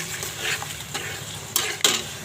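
Garlic paste goes into a pan of cooking beans and potatoes with soft stirring and a low sizzle, then two sharp metallic clinks of a spoon against the pan near the end; no talking.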